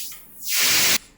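A SynthVR modular synthesizer filter switched to high pass, a bright airy noise sweep that rises and swells into a loud hissing wash before cutting off abruptly.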